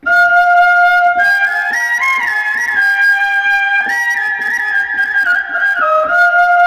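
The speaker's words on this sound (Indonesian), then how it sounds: "Seperti ini untuk suara serulingnya, untuk suara flute-nya." An electronic keyboard plays a flute-like melody, its pure sustained tone gliding up and down across a few notes, clear and close with no talking.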